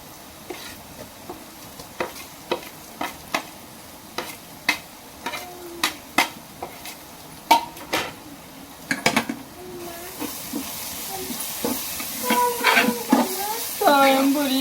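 Ginger and garlic sizzle in a pan in a home kitchen, with a steady hiss and regular spoon taps and stirring scrapes against the pan, growing busier and louder toward the end.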